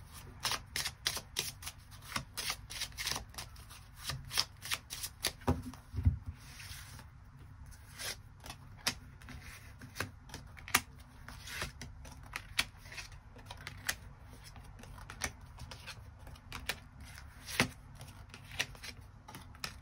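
Tarot cards being shuffled and drawn for a weekly reading, giving soft repeated riffling flicks and sharp card snaps in an irregular rhythm, close and fairly quiet, with no talking.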